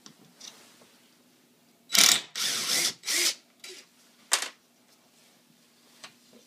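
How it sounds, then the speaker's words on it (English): Screws being undone on a clamp give a few short, close ratcheting and scraping bursts, clustered in the middle with a couple of fainter clicks later, in a quiet room. "Let's undo these screws."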